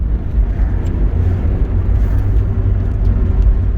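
A car, a diesel-engined show car, drives through town traffic in Rochdale, its low engine rumble and road noise steady and close from inside the cabin.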